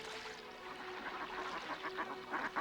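Mallard ducks quacking in a rapid, overlapping chorus during communal mating, the calls growing busier and louder toward the end.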